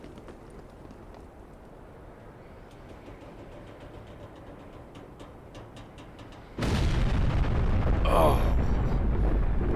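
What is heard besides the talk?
explosions from military attack in video game Black Mesa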